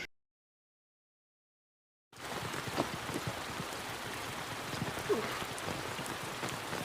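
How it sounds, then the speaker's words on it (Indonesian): After a couple of seconds of silence, steady rain begins and continues, a dense even patter of drops falling on surfaces nearby. "Pagi harinya, hari hujan, mereka pun menunda pendakiannya sampai hujan berhenti."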